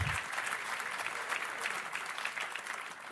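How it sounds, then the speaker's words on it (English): Conference audience at a business event applauding, a dense, steady round of clapping from a room full of people that carries on throughout. "I think we should give that a round of applause"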